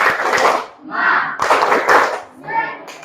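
Children clap their hands together in short rhythmic bursts during a group classroom clapping routine, the claps arriving in clusters separated by brief pauses.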